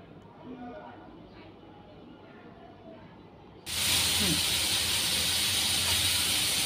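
Spice paste stirred in a pan, starting quiet with faint voices before a loud, broad hiss of sizzling suddenly starts and holds steady to the end.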